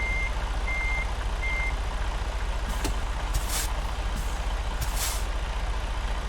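A parked truck in American Truck Simulator sets its air brake with sharp pneumatic hisses around the middle of the clip, over a steady engine idle, after a few earlier reversing beeps.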